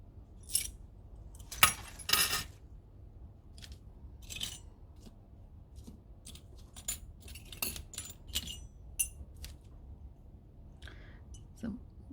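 Small metal key castings are handled and jangle close by, in scattered clinks and rattles spread over about twelve seconds, with quiet gaps between the sharper bursts.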